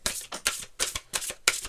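Tarot cards are shuffled by hand in a quick series of soft, papery riffling bursts, close and fairly quiet, with no talking.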